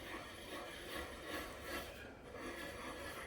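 A wooden piece is sanded by hand in circles with light pressure, giving a soft, continuous scratchy rasp that swells and eases in a slow, even rhythm, faint and close, with nobody speaking.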